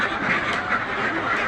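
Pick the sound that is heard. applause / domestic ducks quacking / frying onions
domestic ducks quacking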